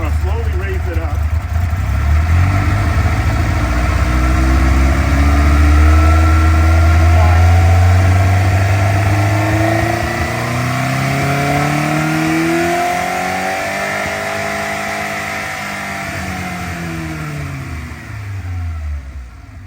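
A Caterham Seven engine idling close by, its speed slowly rising as the idle speed screw is turned, producing a steady low hum that climbs in pitch, with a person talking over it.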